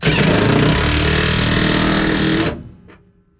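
Power tool whirring steadily on a seat bolt inside a 1976 Chevy Beauville van, loud and close for about two and a half seconds before cutting off and fading out.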